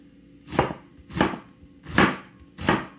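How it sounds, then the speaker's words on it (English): A dull knife chops through an onion in four separate heavy strokes, each a sharp close thud on the board about half a second to seven tenths of a second apart, with no talk. "it's struggling to"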